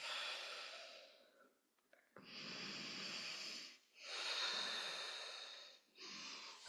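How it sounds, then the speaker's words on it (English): Slow, deep breathing in a yoga session for stress calming: three long, airy inhale-exhale cycles, close and steady, with no talking. "Two more breaths."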